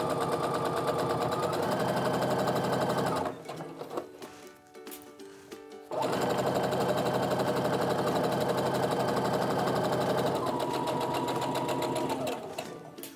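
A sewing machine runs long, steady, close stitching runs joining quilt block rows, with a brief slowdown and rattling pause in the middle before the even drone picks up again, and no talking over it.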